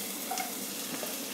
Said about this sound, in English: Now we are going to add the onions when the wok will heat up.